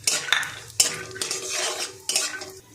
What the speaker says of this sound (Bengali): এবার কড়াইতে একটু তেল দিয়ে দেব, দিয়ে চিনাবাদামটা একটু ভেজে নেব